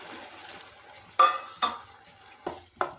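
Tamarind added to a hot pan of frying avalakki (flattened rice) seasoning, giving a low sizzle with four distinct scraping stirs of a spoon against the pan, close and short, no talking.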